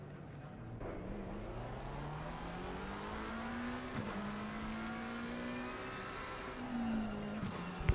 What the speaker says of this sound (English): So everybody's starting up the car.